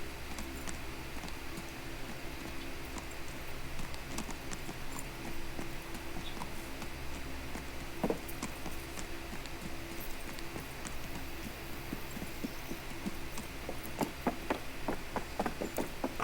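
A horse's hooves clip-clop at a steady walking rhythm in the medieval video game Kingdom Come: Deliverance, the soft repeated thuds sitting low in a quiet game soundscape with faint ticking ambience.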